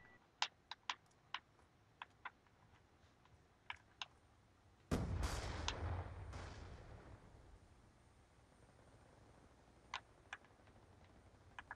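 A burst of gunfire in Black Ops 2 erupts midway, loud and sharp, then trails off into a fading rumble, framed by quiet keyboard clicks and taps before and after.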